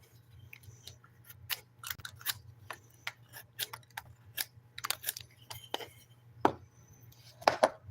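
Knife carving down the wooden handle of a homemade slingshot: scattered short scraping and ticking cuts at an uneven pace, close and fairly quiet over a steady low hum, with a couple of sharper knocks near the end.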